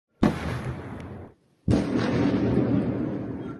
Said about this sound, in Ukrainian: та серія вибухів